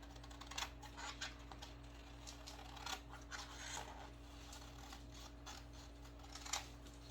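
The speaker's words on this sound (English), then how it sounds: "So for this one, we're just going to cut out the printable." Scissors snip through a paper printable for a decorative cutting board, a quiet close series of irregular crisp clicks and cuts with no talk.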